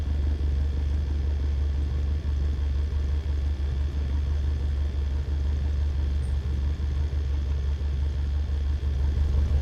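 A Cessna 152 piston engine running in Microsoft Flight Simulator: a steady, loud, low droning rumble that holds evenly for the whole stretch, with no voices.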